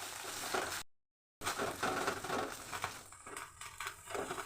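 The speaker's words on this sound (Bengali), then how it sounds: "ভালো করে মশলাটা মিশিয়ে দেবো।" A spoon stirs a spice mix of turmeric, coriander and cumin in a pan, giving soft scraping and crackling sizzle with brief rhythmic strokes, broken by a short silent gap, close and fairly quiet.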